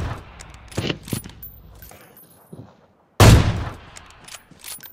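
Gunfire in a battle-royale shooter game: a few scattered mechanical clicks and shots early, then one loud, close burst of fire after a short silence.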